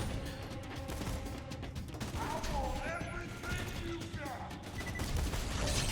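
Twister gun firing in Borderlands 2, dense crackling bursts of electric gunfire mixed with game effects and mechanical clatter, continuous and busy, with a voice talking over it.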